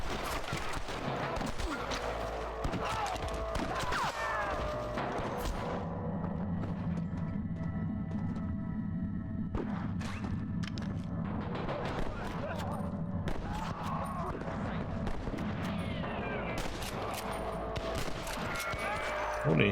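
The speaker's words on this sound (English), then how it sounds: "I can hear more gunshots." Gunfire in the Red Dead Redemption video game: dense, overlapping volleys of gunshots in a continuous fusillade, loud and close, with a chaotic battle din around it and occasional voices.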